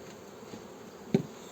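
Honeybees in a hive of about eight frames during spring colony expansion give a faint, steady low hum, broken by one brief knock near the end.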